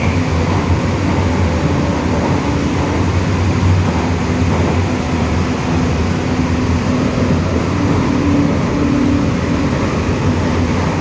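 Steady rumble of an air-conditioned EMU suburban train running between Mambalam and Tambaram, a continuous close rolling drone with low hum throughout, no talking.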